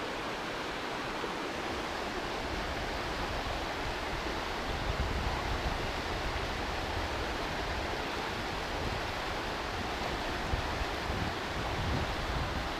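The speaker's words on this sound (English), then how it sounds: "There's that tributary creek, there's that ice, some simple rapids." Continuous broadband rush of a tributary creek flowing over rapids past ice in Mill Creek Park, steady and unbroken, moderately loud with no voices.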